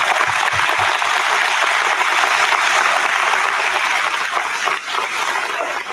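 An audience at a school Grandparents and Special Friends Day event claps steadily in a dense, even wash of applause that holds for about six seconds and thins slightly near the end.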